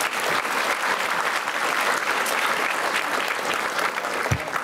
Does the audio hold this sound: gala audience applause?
yes